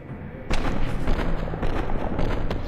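An explosion in the game BADLAND breaks in abruptly with a loud thumping burst, followed by crackling, popping blasts that keep rumbling on at a steady level.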